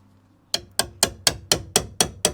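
Chisel struck through rusty body metal on the rear panel of a Citroen Visa: eight sharp, ringing metallic blows at a steady, quick rhythm, close and loud, with no talk.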